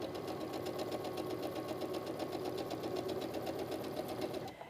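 A sewing machine chain-pieces quilt fabric for a baby quilt, stitching steadily in a fast, even mechanical rhythm that runs close and continuous for nearly five seconds before easing off at the very end.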